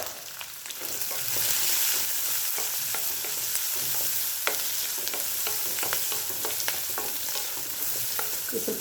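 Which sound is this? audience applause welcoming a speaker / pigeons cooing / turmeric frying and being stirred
turmeric frying and being stirred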